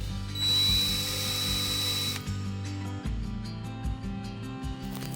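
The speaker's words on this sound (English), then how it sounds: "So you're going to use a hole saw like this, drill bit. We'll put that in our drill, cut through this" A power drill spins up loudly and grinds through a cabinet with a hole saw, then slows into a series of stuttering, ratcheting bursts.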